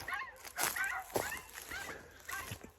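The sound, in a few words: dogs howling and barking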